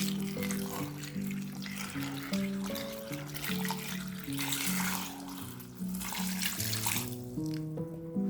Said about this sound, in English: Add salt and water, then boil until the potatoes are tender.